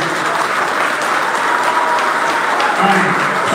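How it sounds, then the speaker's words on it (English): Audience applause at a team captains' meeting, a steady wash of clapping from a crowd that holds at an even level throughout with no break. "one more round of applause real quick."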